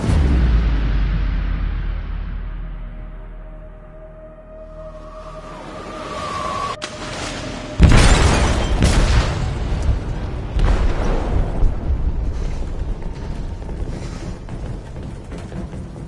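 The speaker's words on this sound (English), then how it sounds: "They detonated an explosive in the hold." An explosive detonating in a ship's hold in the game Gravity Rush: a loud deep boom that fades into a long rumble, then a second sharp blast near the middle followed by sustained crashing and roaring turmoil.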